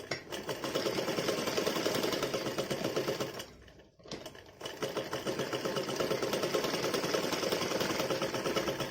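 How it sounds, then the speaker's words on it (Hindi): Sewing machine stitching along the edge of a baby's Holi dress, a fast steady mechanical whir with tight needle chatter, briefly pausing midway before running again, close and alone. "एक सिलाई हम किनारे किनारे लगा देंगे।"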